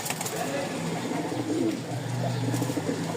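Pigeons cooing steadily up close, a low murmuring coo repeated through the whole stretch with faint chirps above; these are Rajshahi-area pilong pigeons kept in pairs for sale.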